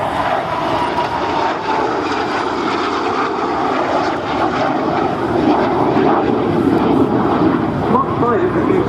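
Jet trainer aircraft, a BAC Strikemaster and a Jet Provost of the RAF, fly at Scampton, a loud, sustained engine roar that holds steady throughout with a slight swell near the end.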